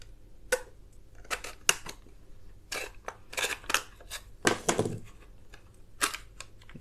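The plastic case of a 12V/24V mini DC inverter being pried open, with a run of close, sharp plastic clicks and snaps in irregular bursts, a heavier crack near the middle, and no talk.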